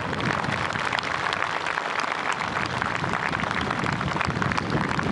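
A dense, steady wash of audience applause greets marine commandos landing during a Navy Day ceremony at Malvan, Sindhudurg, sustained and loud throughout without letting up.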